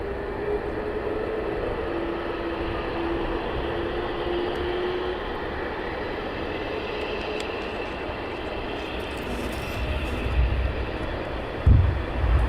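A cargo jet taxis at East Midlands Airport at night, a steady distant engine drone with a faint whine layered over it, swelling into a low thump and rumble near the end.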